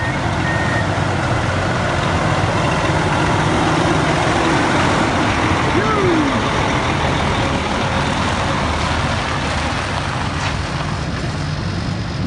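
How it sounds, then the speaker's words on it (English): A big truck hauling sand and dirt at a park construction site passes loudly amid steady heavy rumble, with reversing beeps chirping through the din. "here comes another big truck to drown us out and get us covered with sand"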